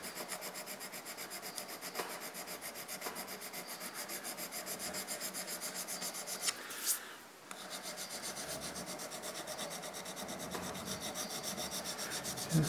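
Fine file rasping steadily across a metal toolmaker's adjustable V block, a continuous close rubbing stroke sound with a brief pause partway through.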